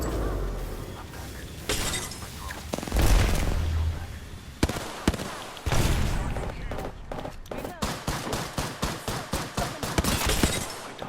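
Apex Legends gunfight with loud crashes and shattering impacts, followed by a fast run of sharp, evenly spaced shots, with occasional talk mixed in.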